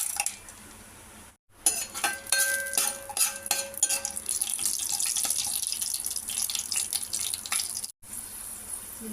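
Chana dal sizzles in hot oil with mustard seeds and cumin for a tempering, a steady bright crackle and hiss with scattered pops, close and fairly loud, broken by a couple of brief gaps.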